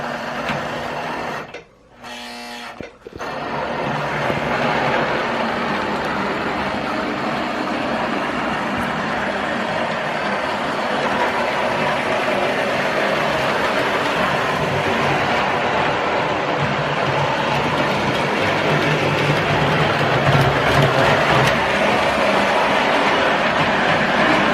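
A used Hogwarts Express toy model train from around 1960 runs along its track with a steady mechanical whirring and clatter, continuous and moderately loud after a brief pause at the start, with no talking.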